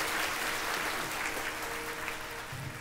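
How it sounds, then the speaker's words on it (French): Audience applause at a beauty pageant, steady dense clapping from a crowd for about three seconds with no voices over it. "Applaudissez bien fort Jasmine Gordon"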